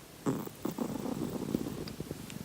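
Soft, close purring with a steady rasping rhythm, fairly quiet against a hushed background.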